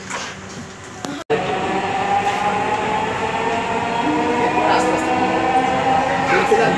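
A metro rail train bound for Agargaon runs along the line with a steady, loud rumble and rail clatter, cutting in abruptly after a brief gap and rolling on without a break.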